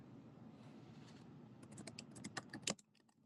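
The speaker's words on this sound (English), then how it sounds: "A little bit of typing." Quiet typing on a computer keyboard over faint room noise, with soft clicks growing into a denser run of distinct keystrokes before stopping abruptly.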